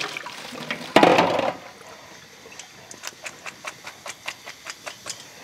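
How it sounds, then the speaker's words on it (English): Red onions soaked in ice water are drained, beginning with a brief splashing pour of water, followed by a steady series of soft, evenly spaced drips and taps. "I have 2 cups of red onions in ice water. They've been sitting here for about 10 minutes. So I'm going to discard the ice."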